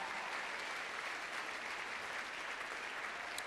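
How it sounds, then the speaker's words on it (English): A crowd applauds steadily, dense clapping holding at an even level throughout without letting up. "I'm not going to go on without another round of applause for Griff O'Neill."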